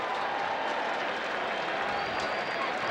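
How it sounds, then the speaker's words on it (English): A stadium crowd at a college football game gives a sustained, loud, derisive cheer, a dense roar of voices and scattered clapping filling the whole moment without a break. "a rather, well, derisive cheer coming from the stands"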